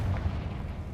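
A Confringo fire spell explodes in Hogwarts Legacy, a single deep, rumbling blast that sustains its roar across about a second.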